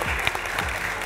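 Studio audience on the Bolivian game show 100 Bolivianos Dicen breaking into a short burst of applause, with dense, close clapping from a crowd.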